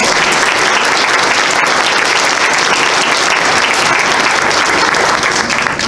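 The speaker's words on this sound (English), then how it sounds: "Let's give everybody a round of applause." An audience at a historical society quilt program applauds, a loud, dense, continuous wash of many hands clapping together without pause.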